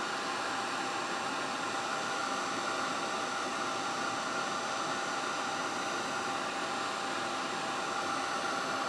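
Heat gun for embossing blowing hot air across a paper bag shaker, a constant close airy roar with a thin motor whine, steady and unbroken throughout with no voices.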